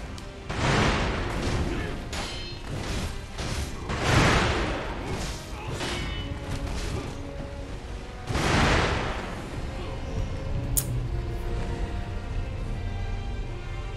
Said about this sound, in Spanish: Ya si lo de los petardos no lo consigo esquivar